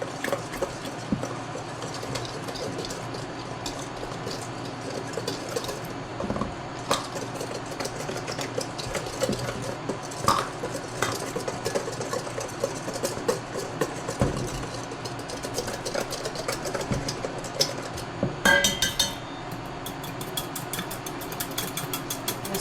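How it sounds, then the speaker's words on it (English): Salt and flour whisked together in a bowl give a steady, busy stream of quick scraping and clicking strokes, fairly close and continuous throughout, with no one talking. "We're going to whisk this together, the salt and the flour."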